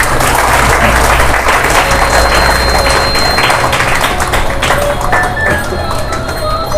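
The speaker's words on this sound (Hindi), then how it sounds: "जोरदार ताली बजाएं" Loud, sustained applause from a crowd at a Kabir bhajan satsang devotional gathering, dense clapping close to the microphone for the whole span with some thumping.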